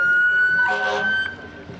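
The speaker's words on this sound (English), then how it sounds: "Engine number 2 from Bradford, the newest fire truck in our parade today, from Bradford." Bradford's engine number 2, the newest fire truck in a fall foliage festival parade, sounds a loud, sustained siren wail nearby, with a horn blast swelling in the middle before fading.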